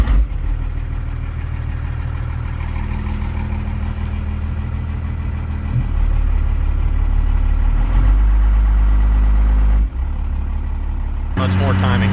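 Up close, a performance-tuned truck engine idles loudly with a deep, steady rumble and heavy timing noise. The pitch shifts slightly partway through, and voices talk over it.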